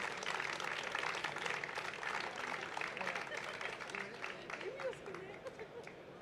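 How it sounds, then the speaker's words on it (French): Audience applauding an award winner at a ceremony for cycling and walking talents, a faint, steady patter of clapping under a murmur of voices that gradually thins out. "Et on peut l'applaudir une nouvelle fois."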